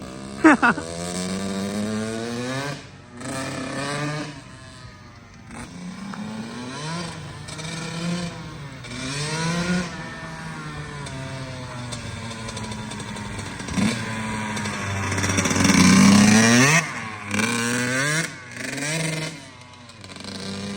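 A rebuilt Kawasaki KX 85 two-stroke dirt bike engine revving with repeated throttle blips, rising and falling buzzy engine pitch in close, loud bursts, with a voice speaking over it.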